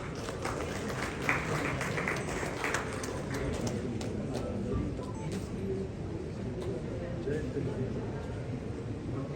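Sustained audience applause at a national teachers' award ceremony in India, a steady wash of clapping from a large crowd with no breaks, while an announcer talks faintly beneath it.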